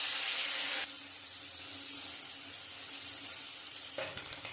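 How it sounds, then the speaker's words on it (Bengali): Turmeric-coated puti fish dropped into hot oil in a kadai, a loud hissing burst at the start that settles into a steady, dense sizzle, close up with no voices. "আমি কড়াইতে তেল দিয়ে দিয়েছি, তেলটা গরম হয়ে গেছে। এবার মাছগুলো দিয়ে দেবো।"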